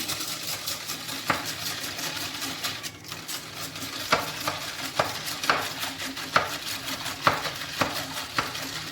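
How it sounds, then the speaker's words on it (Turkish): A spoon scrapes and stirs milk, sugar and flour around a pot in a steady rhythm, with regular soft clinks against the metal and no voices. "Bunları iyicene karıştırıyorum."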